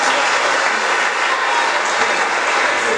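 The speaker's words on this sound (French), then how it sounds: "Veuillez encore acclamer une fois de plus pour notre coordonnateur." Loud crowd applause and cheering for the coordinator at a Congolese community anniversary gathering in South Africa; dense, continuous clapping filling the whole moment with no letup.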